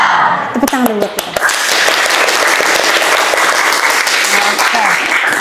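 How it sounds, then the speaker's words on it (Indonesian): Children applauding together in a classroom during a morning lesson, a dense, steady patter of clapping filling the whole stretch after a brief opening of voices. "Tepuk tangan dulu buat kita."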